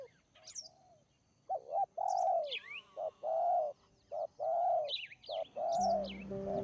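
Spotted doves perched on tree branches at sunrise give repeated soft, hollow cooing phrases in a steady rhythm, several coos in a row, with higher chirps from small birds scattered above and faint low rumble near the end.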